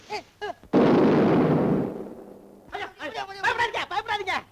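A cannon fires a single loud, booming blast in a Tamil period film scene about war, the roar decaying over about a second, with someone talking calmly just before and after.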